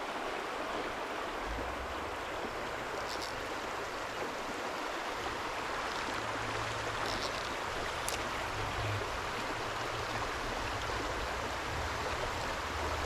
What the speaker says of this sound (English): The water, as you can see, is much smaller in here, more like a creek than a river